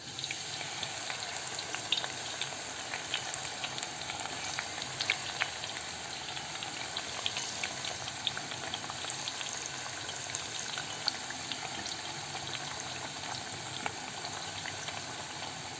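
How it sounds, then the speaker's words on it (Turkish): Eggplant, potatoes and peppers frying in hot oil for a Turkish İzmir köfte dish, a steady dense sizzle and crackle running evenly throughout with no talking. "Ve bunların da kızarmasını bekliyoruz."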